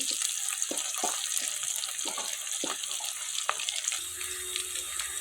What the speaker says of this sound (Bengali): আমি কীভাবে ভাজছি পেঁয়াজগুলি লাল করে লাল লাল করতে হবে